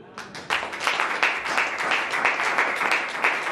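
A church congregation applauds with rapid, dense clapping that builds and holds steady, close and lively, with no talk over it.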